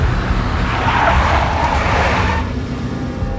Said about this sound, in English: I spotted the tail as soon as I left the hotel. A big black Mercedes.